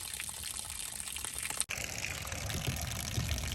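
Water runs steadily from a garden hose into a small cheap garage-sale tank fitted with a freshly oiled spigot, a constant splashing wash with a brief break partway through.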